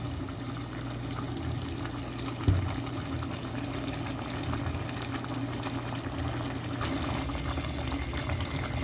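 Rice simmers in thickened broth in a pan, a steady bubbling and sizzling with a brief knock partway through, no talking.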